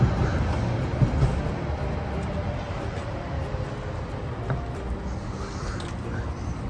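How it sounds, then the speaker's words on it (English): A city tram rolls past in a steady, rumbling wash of wheel and motor noise at moderate distance, with soft street ambience and no clear speech. "Luce, c'è il tram!"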